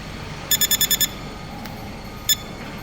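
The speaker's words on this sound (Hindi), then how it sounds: "जैसे ही मैंने दबाया, पैनल से बीप की आवाज़ आनी स्टार्ट हो गई।" After both lower buttons are held together, a control panel sounds a quick run of five sharp electronic beeps, then one more single beep a moment later, over low background hum.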